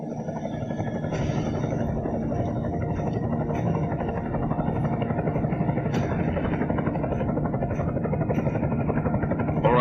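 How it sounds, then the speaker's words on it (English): Helicopter rotor drone from an enemy chopper in the video game Deus Ex: Mankind Divided, a steady continuous thrum throughout, with radio-style voices talking over it. "Enemy helo sighted."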